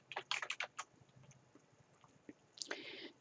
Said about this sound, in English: I'm going to just type it out